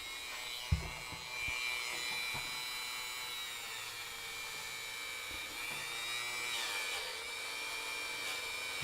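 A bench polishing wheel loaded with compound buffs a steel AR15 trigger at slow speed, producing a steady high motor whine with a few light knocks and contact scrapes, no speech.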